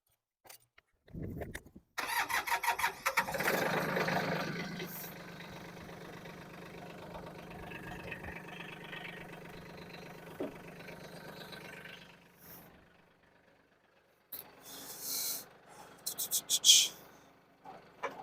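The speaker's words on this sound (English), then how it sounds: "So we'll start the tractor, get it going, relieve some pressure" A tractor engine turns over and catches, then settles into a steady idle with a low rumble, with some louder revving bursts near the end.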